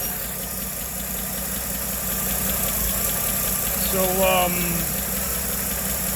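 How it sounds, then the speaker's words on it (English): A warmed-up 1960 Chevy Biscayne engine idles at close range with a steady, slightly ticking rumble, while someone talks over it and a brief squeaky sound rises midway. "39 PSI at idle. I'm running 2050 in here right now. The engine is warmed up."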